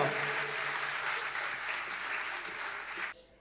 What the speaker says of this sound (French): C'est timide, est-ce qu'on peut applaudir plus fort?